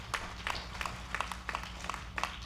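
An audience at a Bhagavat Katha morning gathering in the Toronto Vishnu Mandir claps in repeated, fairly regular bursts, a moderate room-filling applause with no voices over it.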